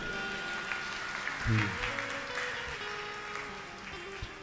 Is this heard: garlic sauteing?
no